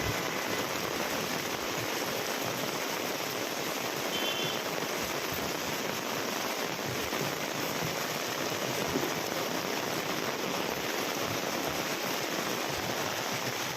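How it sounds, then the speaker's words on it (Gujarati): Heavy monsoon rain pours down steadily throughout in Patan, a dense, continuous hiss with no voices and no breaks. "હજુ 10 મિનિટ જ થઈ વરસાદ ચાલુ છે."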